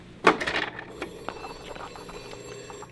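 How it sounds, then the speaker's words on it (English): A telephone rings once in a talk-show studio, a short bright electronic trill at the start that fades into quiet background with faint clicks. "The telephone's ringing."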